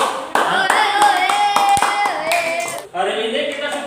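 A school class clapping hands during a lesson, a burst of close, sharp claps overlapping with the teacher's speech, several distinct slaps ringing out before the noise settles.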